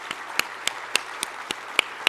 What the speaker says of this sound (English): We don't normally get live claps.